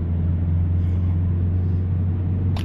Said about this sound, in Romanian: Începe traficul infernal.